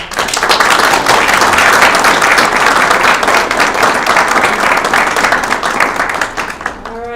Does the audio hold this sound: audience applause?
yes